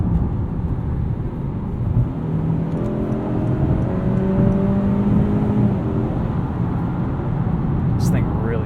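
A 2021 Honda Accord Sport 2.0T accelerates hard up a highway entrance ramp at night to about 60 mph. From inside the cabin, a steady engine drone rises in pitch beneath road and wind noise.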